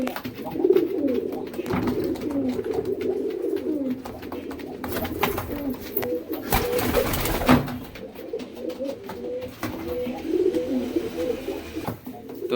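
Crested and dobaj sakdoma pigeons coo and call in a close, busy flock, overlapping throaty rolling coos continuing throughout with brief flutters and a few handling noises.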